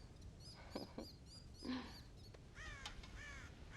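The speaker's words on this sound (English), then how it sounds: "God damn crows!" Several crows caw in the video game Red Dead Redemption, a few harsh calls with short pauses between them, at moderate distance over a quiet background.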